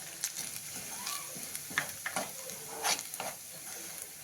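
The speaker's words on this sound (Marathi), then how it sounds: "आता आपण हा केलेला मसाला टाकून घेऊ यामध्ये सगळा." Ground spice masala, made without garlic, goes into a hot oiled pan for a Maharashtrian katachi amti and is stirred, giving a steady close sizzle broken by spoon scrapes and soft clinks.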